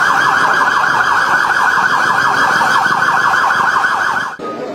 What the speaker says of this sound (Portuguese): A noite toda se ouviu o som de sirenes do Corpo de Bombeiros